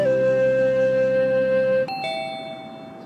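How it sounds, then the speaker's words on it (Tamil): An electronic two-tone home calling bell chime: a sustained tone that steps to a higher note and then slowly fades, heard close and clear with no talking. "யாரோ காலிங் பெல் அடிக்கிறாங்க"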